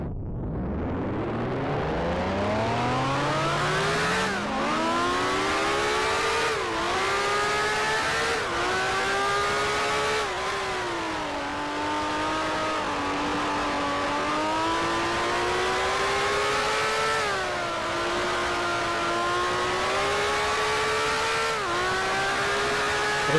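A 1965-era Formula 1 race car engine in Grand Prix Legends screams up through the gears, loud and close, with repeated climbing revs broken by brief shift dips, alone without talk.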